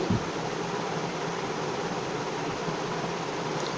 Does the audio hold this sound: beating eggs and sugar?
yes